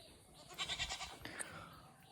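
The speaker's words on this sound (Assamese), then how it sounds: "সেয়া তলত ছাগলী বেকে বেকে কৰি আছে" A goat bleating below a tree house, a few quick wavering bleats heard faintly at a distance in a quiet setting, with a sharp faint chirp following.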